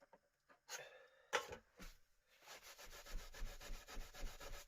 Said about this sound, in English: You can just scrape the corners out if it's got a bit of stripper build up on there.